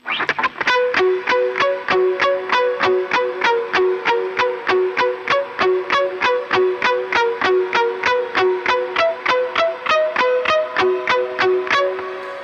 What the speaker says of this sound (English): and without the delay, it sounds like this.